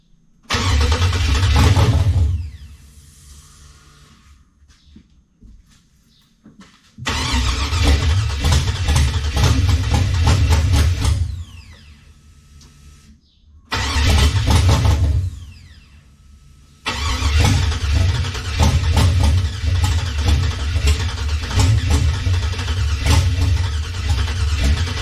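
A 6.0 LS swap V8 with a BFD TSP cam in an OBS truck cranks and fires for its first start, running loud and rough in bursts that cut out between attempts before catching and idling.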